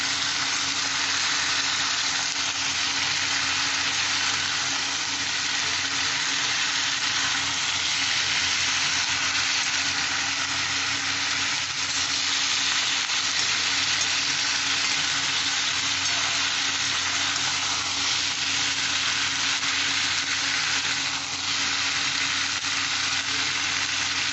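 Vegetables and ginger for Bengali shukto frying hard in a pan, a loud, dense, unbroken sizzle that holds steady for the whole stretch with no voices.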